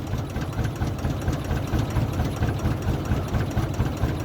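A tractor engine runs steadily on a farm field, the machine fitted with tractor tires for tilling. Its low, pulsing rumble is continuous and moderately loud, with no talking.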